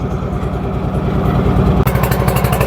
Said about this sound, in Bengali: আমাদের বোট চলতেছে